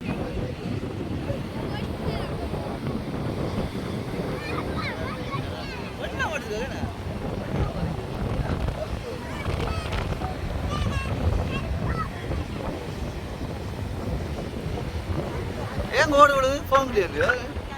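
Rough sea waves crash on a beach at dawn with wind gusting across the microphone, a continuous wash of surf heard under someone talking throughout.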